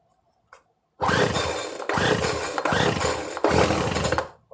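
Small two-stroke leaf blower with the choke on, being pull-started after a repair: after a faint click, a loud rough ragged burst of rasping pulls and sputtering engine noise comes in surges of about a second each, then stops.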